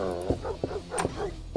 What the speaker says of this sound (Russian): Я не знал, что здесь собака имеется.